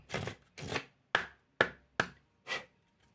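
A deck of tarot cards being cut gives six short, dry slaps and taps in an uneven rhythm, close and fairly quiet, with no voice.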